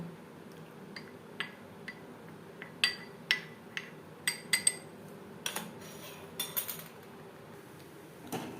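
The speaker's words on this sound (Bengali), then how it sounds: "দুধ অ্যাড করে পাউডার আমি গুলে নেব" A spoon stirs vanilla custard powder into milk in a bowl, with sharp irregular clinks against the side, some in quick clusters, over a quiet room background.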